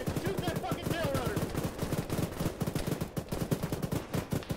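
Rapid automatic gunfire from a military shooter game, Arma played with ShackTac, fired aimed at a Blackhawk helicopter's tail rotor: dense, loud bursts of repeated shots rattling steadily throughout, with voices faintly under the din.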